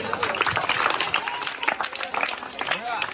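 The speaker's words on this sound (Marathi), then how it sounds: "त्यांच्यासाठी एक जोरदार टाळ्या झाला पाहिजे." A crowd at a Ganesh mandal festival games event claps in a dense, continuous patter of applause, mixed with voices and loudspeaker talk over the noise.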